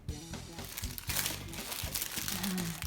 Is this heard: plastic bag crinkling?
yes